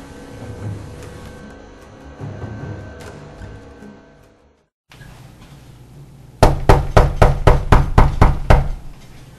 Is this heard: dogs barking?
no